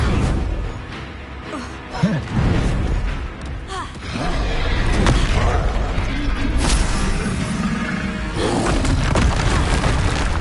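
Confringo explosion spells go off in the Hogwarts Legacy video game, booming blasts and crashing debris mixed with dense game sounds, loud and continuous, with brief spoken bits under the noise.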